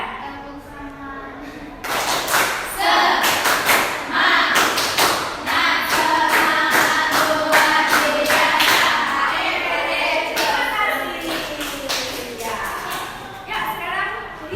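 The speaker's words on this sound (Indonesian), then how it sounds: "Tepuk semangat." Group rhythmic clapping chant led in a classroom, with repeated sharp claps in a steady pattern alongside children's chanting voices throughout.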